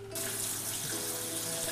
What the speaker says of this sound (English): I'm going to get these under some cold water